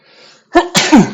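A single close, loud sneeze bursts out in two sharp bursts after a moment of quiet room noise, heard on its own without talk.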